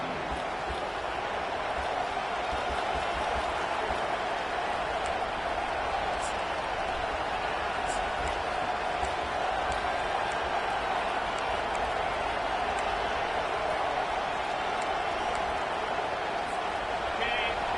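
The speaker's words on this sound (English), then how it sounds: "This crowd, full throat, splitting the eardrums and letting them know it's going to be a long day." A packed stadium crowd at a football game roars continuously, a dense sustained wall of cheering that holds steady and loud throughout, with no voices standing out.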